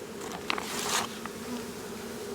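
A swarm of honeybees being relocated into a hive fills the air with a dense, steady buzzing that swells briefly partway through, close and continuous, with no voices.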